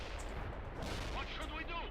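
Steady gunfire and distant rumbling explosions in the war game Conflict, a continuous dense battle noise with overlapping shots throughout.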